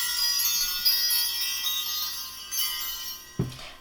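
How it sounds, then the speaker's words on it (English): Bells ring out with a bright, shimmering tone that holds and slowly fades over a few seconds. A soft knock near the end cuts into the decay. "I want to ring the bells"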